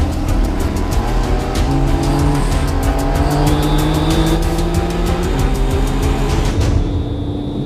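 An Aston Martin twin-turbo V12 race car revs hard with tire squeal, a loud sustained engine howl shifting pitch as it accelerates, with tires squealing over the roar.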